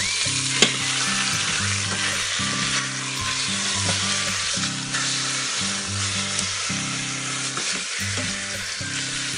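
A pork tenderloin sears in a hot pan, giving a steady, close sizzle of frying fat across the whole stretch with occasional louder pops and light handling of the meat, with no talking over it.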